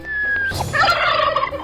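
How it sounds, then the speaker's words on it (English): A turkey gobbles once in a rapid, warbling burst, loud and close, following a brief high electronic tone and a soft thump, in a cheerful toy-egg animal reveal for toddlers. "Turkey!"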